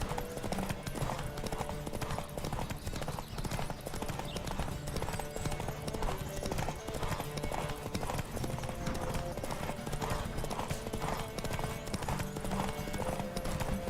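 Rapid, steady hoofbeats of a galloping horse in The Witcher 3 video game clatter continuously, with a bright rhythmic clip-clop over a constant background.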